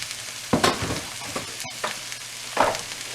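A spoon scrapes and stirs corned beef hash in a pan in a few separate strokes, with quiet pauses between them. The sound is close and moderately loud, and no one speaks.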